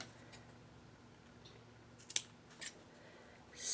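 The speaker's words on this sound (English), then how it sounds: "I'm going to just fold a little bit here and make a little snip." A few quiet scissor snips into folded quilting fabric for a strip-set quilt block sound in an otherwise hushed room, followed by a soft rustle of fabric at the end.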